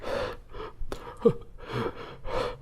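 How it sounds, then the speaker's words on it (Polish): In a dark, quiet SCP horror video game, close, heavy breathing comes in a few slow, rasping, gasp-like breaths. "To nie mój oddech."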